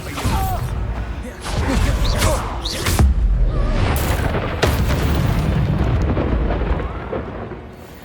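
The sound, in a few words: Expelliarmus spell being cast in video game Hogwarts Legacy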